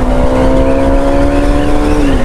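Kawasaki Ninja ZX10R sport motorcycle accelerating hard, its engine a loud, close, continuous drone with a steady rising whine held for a couple of seconds before easing slightly.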